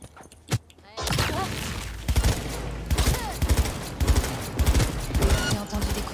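Rapid bursts of video game gunfire in Cyberpunk 2077 crackle repeatedly after a brief quiet start, loud and close, with scattered voices mixed in beneath the shots.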